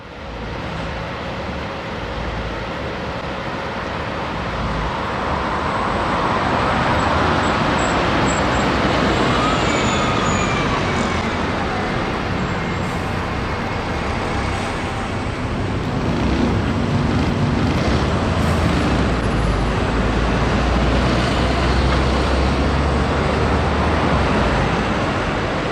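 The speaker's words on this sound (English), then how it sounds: "This bus is one of 20 Gemini 2 DLs that were delivered to Tottenham in 2013" A Gemini 2 DL double-decker London bus, one of a batch delivered to Tottenham in 2013, moves through traffic with a loud, continuous engine rumble and road noise that swells slightly midway.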